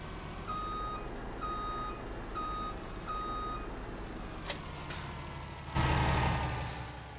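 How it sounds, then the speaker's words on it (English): A MAN truck in Farming Simulator 19 reverses with a steady series of evenly spaced electronic beeps over a constant engine drone, followed by a sharp air-brake hiss near the end; no one speaks. "Now let's get the truck over there so it's ready to go."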